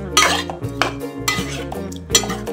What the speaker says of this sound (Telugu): ఇప్పుడు ఇలా ఒకసారి చికెన్ మొత్తాన్ని కలుపుకుందాము.